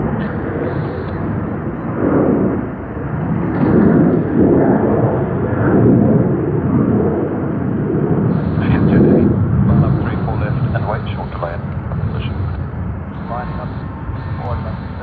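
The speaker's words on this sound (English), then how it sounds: "United to San Francisco has begun its takeoff roll." A United jet airliner bound for San Francisco rolls for takeoff at Sydney Airport, a heavy, swelling engine roar and rumble heard from a distance while someone talks over it.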